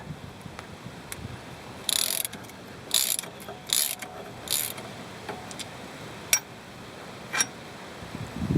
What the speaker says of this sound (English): you're going to need an open-ended wrench and you're going to need a socket, and they're both 15mm